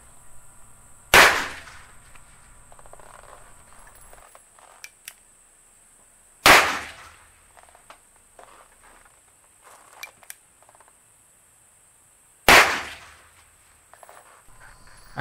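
Three sharp, loud .22 Magnum rifle shots fired into ballistic gel, evenly spaced about five to six seconds apart, each a crisp crack with a short ring-off and quiet outdoor handling between.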